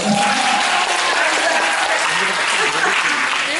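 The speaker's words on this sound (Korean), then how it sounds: "다시 한번 박수 부탁드리겠습니다" Loud, continuous applause from an audience at a women's week lecture competition, dense clapping holding steady throughout without pause.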